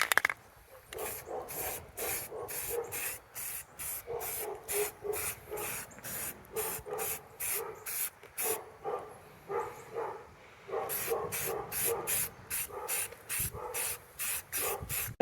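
Scooter parts on a gas scooter build are spray painted with black paint in a rapid series of short, sharp aerosol hisses with brief pauses between bursts, close and fairly quiet, with no talking.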